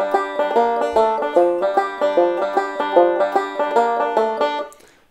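Banjo picking a bluegrass-style song verse in a bouncing shuffle feel, steady repeating plucked notes played alone and close, ringing out briefly at the end.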